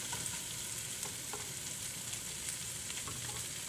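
Jalapenos and breakfast taco fillings fry in a hot pan with a steady close sizzle, broken by occasional light stirring clicks and scrapes.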